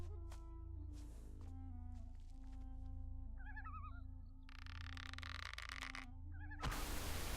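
A pet cat hacks and retches while coughing up a furball, a few short caterwauling, meow-like bursts heard close by over the steady background music and noise of a Gothic 3 game session.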